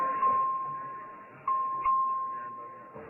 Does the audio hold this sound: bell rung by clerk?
yes